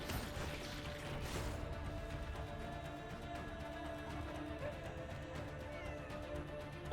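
Cat meowing in a video game, heard among a busy mix of clattering effects and background noise, with a faint voice in the background.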